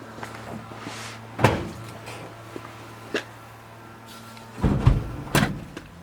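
Hood of a 1965 Mustang Fastback with a 289 V8 being opened: a sharp metallic clunk, a faint latch click, then a louder clattering thump and rattle as the hood is raised, heard close over a steady low hum.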